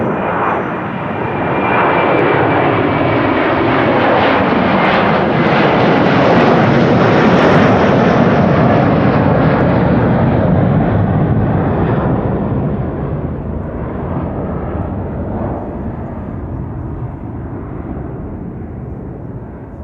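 Delta airliner bound for Atlanta departing Amsterdam Schiphol, a loud, rumbling jet roar that swells to a peak and then slowly fades as it climbs away.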